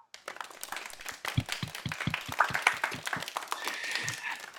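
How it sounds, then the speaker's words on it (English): An audience at a Teacher of the Year ceremony gives a soft golf clap, scattered light handclaps patting along for several seconds with faint voices underneath. "I want everybody to give all of our teachers a golfer's clap"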